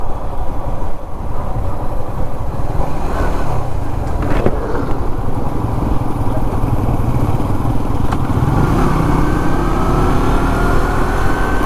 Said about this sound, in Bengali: আমাদের সব বাইকাররা এক এক করে যাচ্ছে।